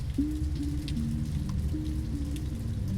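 Torrential rain pours in a steady, dense hiss of drops over a low rumbling bed, continuous and close throughout with no voices.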